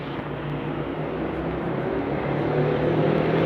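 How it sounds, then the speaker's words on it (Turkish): Steady motor noise from outside traffic, heard from a balcony, a continuous low rumble that holds at a fairly even level and swells slightly toward the end, with no talking. "eğer dışarıdan böyle motor sesleri geliyorsa özür dilerim"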